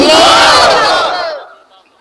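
A large crowd at a religious sermon gathering answers the Nara-e-Takbir call with a loud, unified roaring shout that holds for about a second before fading away.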